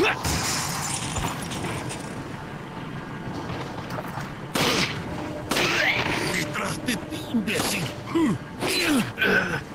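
Gunfire rings out in Resident Evil 4 VR, a run of sharp, loud shots that stands out abruptly from quieter game ambience, with people talking and reacting throughout.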